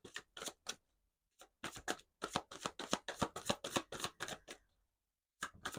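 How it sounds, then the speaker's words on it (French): Oracle cards for the heart chakra being shuffled by hand in close, quiet bursts of crisp riffling and flicking, with a few brief pauses between runs. "on va prendre quelques cartes de l'oracle chakra du cœur pour voir au niveau du lien"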